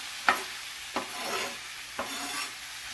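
Chicken with sauce cooking in a pan, with three scraping stirs spaced about a second apart over a quiet sizzle, and no voices.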